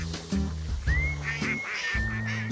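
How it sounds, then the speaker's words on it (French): Ducks on a Camargue farm quack and honk in short repeated calls, close and fairly loud, with a high whistly note between them and no talking. "Les canards! Viens là, les canards, viens là, viens!"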